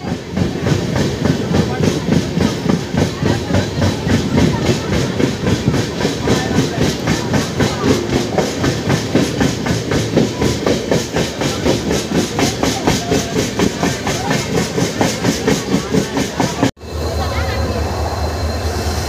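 An express train on the Puri to Howrah line rumbles along the tracks with a fast, steady clickety-clack rhythm, loud and close, briefly shifting to a deeper roar near the end.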